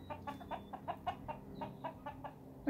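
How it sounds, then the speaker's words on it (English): Chickens on a mountain homestead cluck softly and repeatedly in a loose, irregular rhythm at close to moderate distance, with quiet background noise. "Good morning, chickens."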